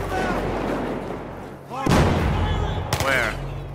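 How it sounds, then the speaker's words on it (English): Gunfire rings out in the Battlefield 4 campaign, several sharp loud shots and bursts cutting over a rumbling battle backdrop, with a player talking underneath. "I hear gunfire."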